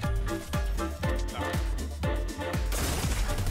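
Repeated sharp gunshots crack out in a Fortnite match, roughly every half second in a steady volley over a bed of music, each impact loud and close before a noisier burst at the end.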